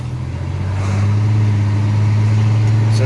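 A Chevrolet S10 truck with a swapped engine pulls away on its first test drive, its engine droning loud and steady from inside the cab as it builds in revs.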